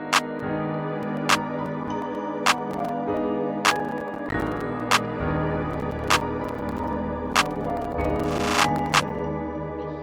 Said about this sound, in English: So that's what the clap sounded like.